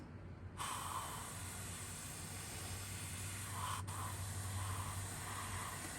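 An aerosol can sprays a light coat of paint onto a fishing lure, giving a steady close hiss that runs on for several seconds after a quick start, with faint brief puffs over it.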